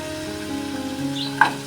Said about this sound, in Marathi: मी हे कढईमध्ये तेल काढून घेतले आहे आता ह्याच्यामध्ये ना मी गुळ घालते